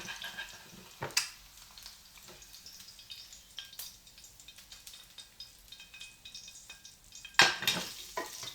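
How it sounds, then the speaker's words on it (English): Eggs hit a hot pan during brunch cooking with soft sizzling and frying, marked by a few sharp clanks of cookware and utensils against a quiet background. "We're putting on my eggs."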